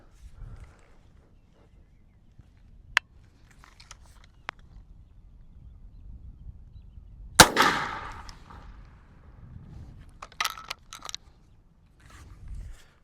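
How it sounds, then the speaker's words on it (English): A single 12 gauge shotgun blast firing buckshot at a target outdoors, one loud sharp report with a decaying rumble, set among quiet surroundings with faint handling noises. "So now we're about to take the first shot for this test."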